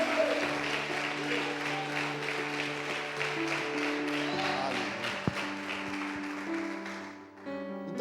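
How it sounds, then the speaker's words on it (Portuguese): A church congregation applauds in a sustained patter of clapping over soft held musical tones, fading out near the end. "Você pode aplaudir o Senhor"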